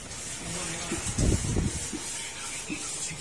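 A homemade used-oil burner stove in a repair shop is test-fired, giving a steady, close, airy hiss and roar throughout, with a brief burst of low rumbling or muffled voice partway through.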